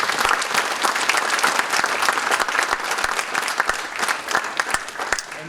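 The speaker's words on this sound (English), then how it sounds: "Please join me in welcoming with applause and acclaim Allan Witt into the Armijo High School Hall" A crowd applauds at a high school Hall of Fame induction ceremony, with dense, steady clapping that continues unbroken from start to finish.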